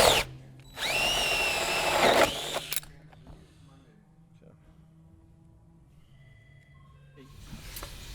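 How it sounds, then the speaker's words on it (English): A power drill bores a hole through the rear area of a C7 Corvette for a racing harness bar, whining loudly for about two seconds, then trailing off into quiet shop ambience with a faint ratchety tail. "and then you can drill it"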